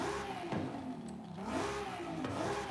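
A turbocharged 2011 Audi RS3 Sportback revs in Forza Horizon 5, the engine note climbing and dipping in quick repeated blips with a whirring turbo edge, moderately loud and heard alone.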